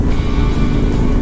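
A motorcycle engine revs hard on a freeway in San Diego, a loud, continuous low drone with wind rush, close and steady over a brief moment.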